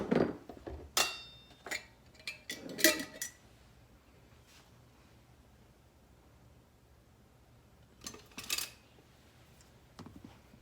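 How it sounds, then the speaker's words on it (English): Flour and Parmesan cheese being stirred together in a dish, a few quiet clinks and taps of a utensil against the container in short clusters, separated by near-silence. "we're just going to mix that together good, the flour and the cheese"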